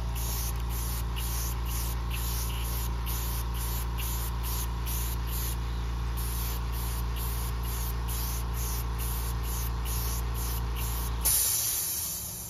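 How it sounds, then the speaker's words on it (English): An airbrush sprays light coats of paint on a Hermes 8 restoration, producing a continuous hiss that pulses in quick short bursts over a steady low compressor hum and cuts off abruptly near the end. "I'm doing nice light coats at first, just so the paint has something to adhere to"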